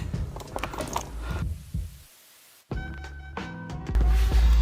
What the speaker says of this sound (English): we took out the two 10mm bolts that hold this throttle cable